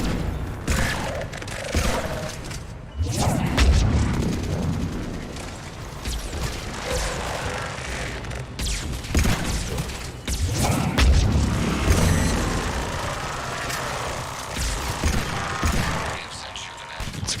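Pistol shots fired in the video game Mass Effect 3 Legendary Edition, several sharp bursts and thuds scattered across a busy combat mix, with overlapping game noise and booms.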